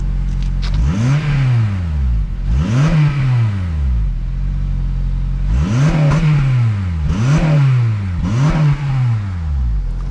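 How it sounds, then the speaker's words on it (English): A car engine at a car auction revs up and drops back repeatedly, five loud rising-and-falling surges close by, idling between each. "Do you want me to take them out back and you can rev it up?"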